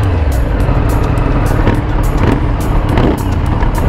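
A Triumph Street Triple motorcycle engine under hard acceleration on a test ride, using its quick shifter: a loud, continuous roar with regular short pulses as the revs break for each rapid gear change.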